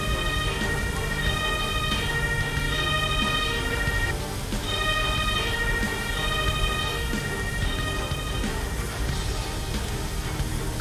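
A video game ambulance siren wails in a repeating rising and falling tone pattern, steady and prominent over a dense background of game sounds.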